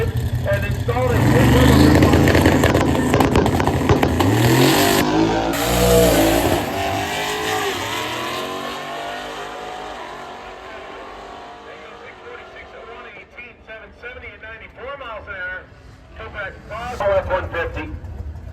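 Race cars at Brainerd Motorsports Park, including a Buick and an F-150, roar loudly nearby and then fade into the distance, with an announcer talking over the engines.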